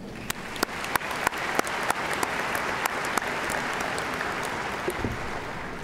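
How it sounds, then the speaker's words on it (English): Commencement audience applauding the faculty, a broad, even roar of crowd clapping heard from a distance, with a few sharp nearby claps standing out in an irregular rhythm. "let us all give a round of applause to the hardworking faculty of this great"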